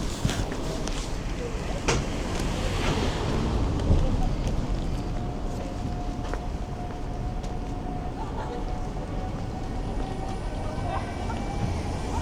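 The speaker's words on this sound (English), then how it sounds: "I don't want the wind to be bumming y'all out" Gusty wind buffets a handheld microphone outdoors at night in a city, producing a steady low rumble throughout, with faint street sounds underneath.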